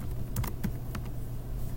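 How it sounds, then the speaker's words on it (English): Computer keyboard being typed on, a short run of light, quiet key clicks in quick irregular succession. "I'm just typing in 360 divided by 3."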